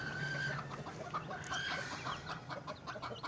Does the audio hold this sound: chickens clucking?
yes